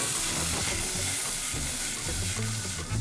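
Onions, garlic, ginger and chilies sweat slowly in a pan, giving a steady, dense hiss and soft sizzle that holds at the same level throughout, with a low rumble underneath.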